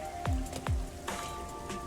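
Rain falls in the video game Master Detective Archives: Rain Code Plus, a quiet, steady patter with a couple of soft low thuds over a faint sustained tone.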